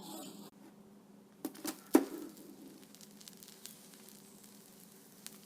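Adai multi-lentil dosa frying on a skillet after being flipped, a faint soft sizzle with a few sharp clatters near the start, then quiet crackling and occasional pops.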